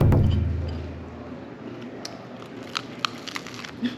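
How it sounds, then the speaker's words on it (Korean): Crunchy shared snack bitten at close range, one loud bite at the start followed by a few sharp crackling chews, quiet between them. "바삭바삭 소리가 너무 ASMR이에요."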